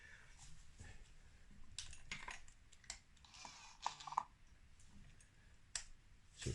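The power valve servo on a 2000 Yamaha DT125R motorbike clicks and ticks at irregular intervals as the key is turned, the sound faint and close with no speech.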